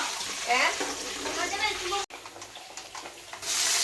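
Curry leaves dropped into hot oil in a pan while making a home-style curry, giving a steady, bright sizzle and crackle that carries on under a person talking, with a brief gap before the frying noise swells again.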